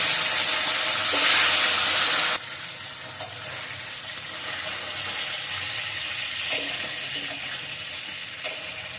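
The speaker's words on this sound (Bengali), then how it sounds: "এবার তেলটা গরম হয়ে গেছে, মাছগুলো একটু ভেজে নেব, হালকা একটু ভেজে উঠিয়ে নেব।" Fish frying in hot oil in a home kitchen, a steady loud sizzle with a brief louder surge early on and a few faint clinks and stirring taps.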